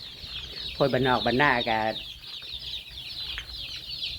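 A chicken gives a short, loud, tonal call up close for about a second. Quieter farmyard sounds and faint background murmur follow.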